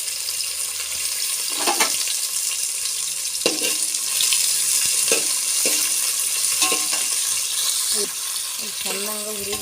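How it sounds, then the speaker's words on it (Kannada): Sliced onions fry in hot oil in a pan, a steady sizzling hiss punctuated by scraping stirs and occasional clanks of the spoon, under intermittent speech. "ಚೆನ್ನಾಗಿ ಹುರಿಬೇಕು ರೀ, ಗೋಲ್ಡನ್ ಕಲರ್ ಆಗುತ್ತಾನ ಇಷ್ಟೇ ಬಿಡ್ಬೇಕು ರೀ, ಎಣ್ಣೆ ಫ್ರೈ ಆಗಬೇಕು."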